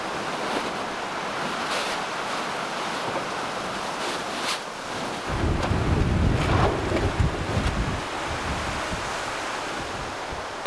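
Gusty wind blows across a lakeside campsite in the Finnish wilderness in August, a steady rushing roar against the microphone that swells into a stronger, rumbling gust midway and then settles back.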